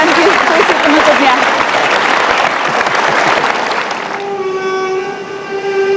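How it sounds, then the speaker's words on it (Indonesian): An audience claps for the poet Kiai Haji Mustafa Bisri after his closing poem, loud dense applause that gradually thins out as a sustained tonal musical note takes over near the end. "Kita kasih tepuk tangan Kiai Haji Mustafa Bisri dan puisi penutupnya."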